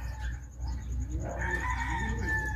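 A rooster crows once, fairly near and clear, over a low background hum with faint clucking around it.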